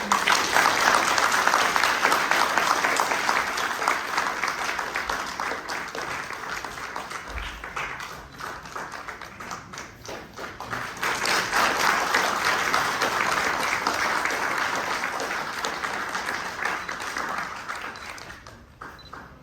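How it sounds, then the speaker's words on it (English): Sustained audience applause at a conference opening ceremony, a broad roar of many hands clapping that dips briefly midway, swells again, then tapers off near the end. "A huge round of applause."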